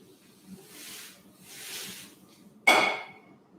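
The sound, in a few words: freeze spray hissing on chocolate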